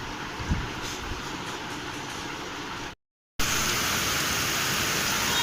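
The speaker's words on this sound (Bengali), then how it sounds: "কি সুন্দর বৃষ্টি হচ্ছে" Steady, dense hiss of rain falls continuously, broken by a brief silent gap before resuming at a similar level.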